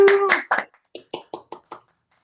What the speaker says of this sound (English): Got extra applause from my household as well.